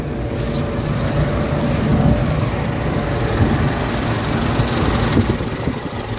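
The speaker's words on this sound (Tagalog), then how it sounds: "Medyo nangangatal yung kanta ng makina." A Mitsubishi Adventure engine with a throttle delay and low power fault idles roughly, a steady, close, rumbling drone with a slight shaky unevenness that carries on without a break.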